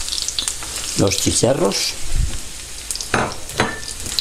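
Horse mackerel (chicharros) sizzling in hot oil in a pan, with a pimentón mixture about to go in; a steady fry crackles underneath while a person talks over it in short bursts.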